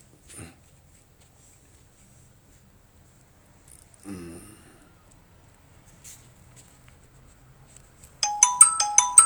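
A phone ringtone for an incoming call comes in loud and near at the end, after long near-silence broken only by a few faint thuds and rustles.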